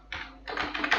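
Close, quick keystrokes on a computer keyboard while entering an Excel price list, a short burst of soft clattering taps.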